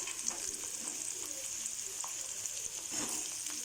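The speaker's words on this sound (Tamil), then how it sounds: "கொஞ்சமாக கறிவீடம் போட்டு நல்லா கிளறி விட்டுக்கலாம்." Curry leaves crackle and fry in hot oil over a high flame for a fish kuzhambu, a steady, fairly soft sizzle broken by scraping stirs.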